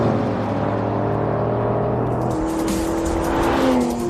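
A Porsche 911 GT3 with PDK gearbox revs toward 9,000 RPM on a track straightaway at about 105 mph, a loud sustained engine howl that climbs in pitch, shifts, and keeps accelerating.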